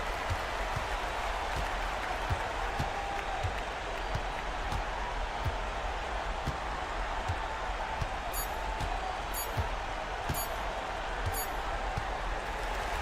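Home crowd applauding and cheering a basketball win in a simulated EuroLeague game, a steady dense wash of clapping with regular ball bounces and occasional sharp squeaks throughout.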